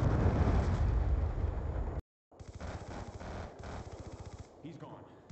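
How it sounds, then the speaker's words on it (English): A Hellstorm missile strike explodes in Call of Duty: Black Ops 2 with a loud, rumbling roar that cuts off abruptly, then rapid automatic gunfire rattles on in steady bursts. "Friendly Hellstorm missile inbound."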